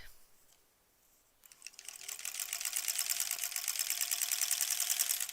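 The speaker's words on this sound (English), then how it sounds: "And like that, I'm done sewing already." A sewing machine stitches granny squares quilt blocks, starting after a quiet moment and running steadily with a fast, even mechanical rattle that grows louder and continues to the end.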